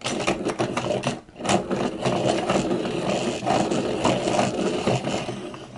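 A Dahle 133 pencil sharpener grinds a pencil in a steady, loud, continuous rasping whir close to the listener, with only a brief dip before resuming.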